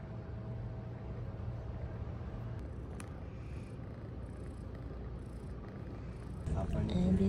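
A four-month-old cat purring close up, a steady low rumble running unbroken throughout, growing louder near the end.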